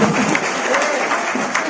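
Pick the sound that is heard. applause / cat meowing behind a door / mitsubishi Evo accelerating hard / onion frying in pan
applause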